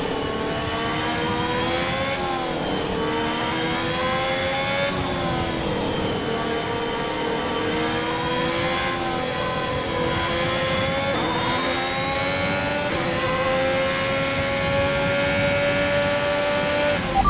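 Formula 1 race car engines roar in a racing video game, one close car droning loudly as it climbs through the gears, with rising whines cut by repeated upshifts and a constant, unbroken note.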